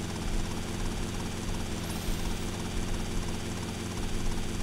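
Helicopter flying extremely low in Grand Theft Auto Vice City, a steady, loud rotor and engine drone that holds continuously close by, with game ambience underneath.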